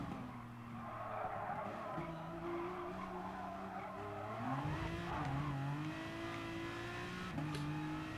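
Race car tyres on super soft compound skidding and squealing on the Dragon Trail Gardens circuit in a racing game, sustained engine drone with shifting revs and tyre screech running steadily throughout, moderately faint.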